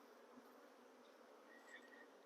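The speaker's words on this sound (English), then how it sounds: "and just get the majority of the bees off of here." A steady, faint hum of African-derived honey bees swarming around a hive, droning continuously at low level before a brief louder knock at the very end.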